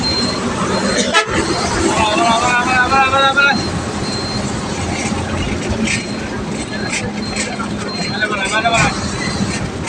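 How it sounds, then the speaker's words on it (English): A bus carrying students on a study tour to Natore, its engine rumbling under the chatter of passengers while the horn sounds in a sharp blast followed by a run of repeated toots and later more honking. "Our bus is going to Natok."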